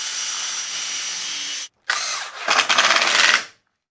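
A power drill drives screws to fix wooden guides onto the frame of a homemade wooden band saw mill, whirring in a loud steady run, cutting off briefly, then revving again in a final burst before stopping.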